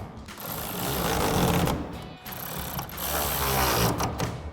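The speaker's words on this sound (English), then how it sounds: "we'll go ahead and tighten those down with our 16mm socket on our ratchet" A hand ratchet turning a 16mm socket tightens the rail clamps of a Rough Country hard low-profile tri-fold tonneau cover on a 2019-2024 Sierra 1500 pickup, with sustained close-up clicking and grinding and brief pauses between pulls.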